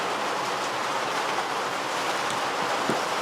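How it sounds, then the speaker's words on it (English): Steady rain falls outdoors as a dense, even hiss, loud and continuous throughout, recorded on a Vivitar DVR794HD action camera with no other sounds standing out. "Oh, here's the rain."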